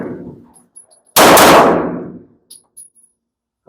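A single sharp report from a SAR 9X pistol fired at a range, loud and close, with a brief ringing decay and a few faint clicks afterward.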